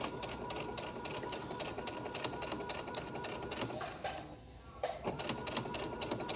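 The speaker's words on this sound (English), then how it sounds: "I'm going to back stitch over so I make sure that it's really secure and being held in here." A sewing machine back stitching a fabric face mask runs in a fast, steady mechanical clatter close by, briefly pausing and slowing before resuming at full speed.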